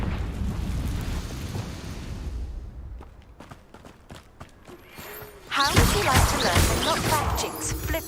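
A Confringo fire spell blasting in the Hogwarts Legacy video game, a loud roaring burst after a stretch of crackling and sharp clicks, with the blast rumbling on to the end.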